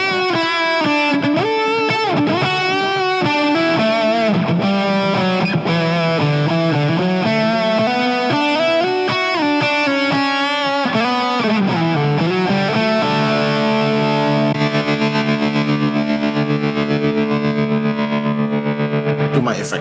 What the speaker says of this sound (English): to a lead sound.